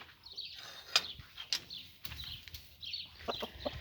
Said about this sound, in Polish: O, słyszycie tam kurkę?